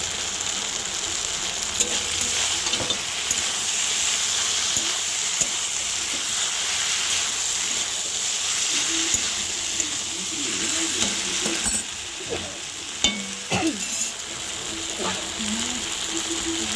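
Taro stolons and prawns stirred and fried in oil, with a steady close sizzle and repeated scraping, ratcheting clicks of the utensil against the pan throughout, no talking.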